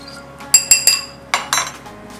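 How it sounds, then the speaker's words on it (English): A whisk clinks against a bowl while pumpkin bread ingredients are mixed: a few sharp, close taps in two short bursts, with quiet pauses between them. "let's go ahead and whisk these ingredients together"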